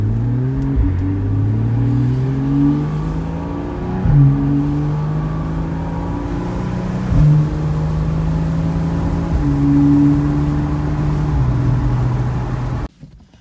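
A 2014 Porsche Carrera S Cabriolet engine starts, runs and revs repeatedly, pitch rising and dropping in several swells, loud and close, then abruptly cuts out at the end.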